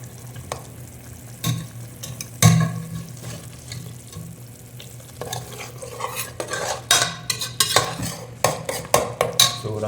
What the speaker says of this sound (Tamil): ஸோ அதனால் அதுக்கப்புறம் நான் ஜிஞ்சர் garlic பேஸ்ட் போட்டேன்.